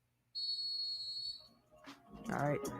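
A sharp, shrill whistle blast sounds near and loud for about a second, then people talk over one another afterward.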